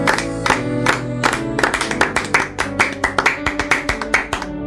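A church congregation claps in rhythmic unison during worship, a run of sharp, evenly spaced claps that stays close and loud over a tonal musical background, with no voices prominent.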